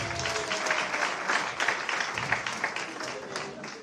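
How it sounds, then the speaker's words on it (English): Applause from the audience at a teachers' union provincial conference, a dense steady wash of many hands clapping that fills the room at fairly even loudness, with a faint murmur of voices mixed in. "Can we give it a round of applause?"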